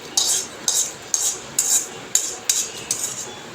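Roasted dried red chillies scooped from a pan into a bowl, heard as about eight bright metallic scrapes and clinks of a utensil, evenly paced and close, with no talking.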